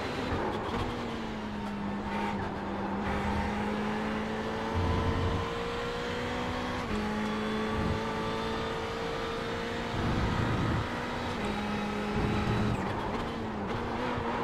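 A race car engine in iRacing drones loudly at close range with steady tonal whine, then shifts pitch abruptly in several downshift steps, revs dropping and rising in short bursts; no voices.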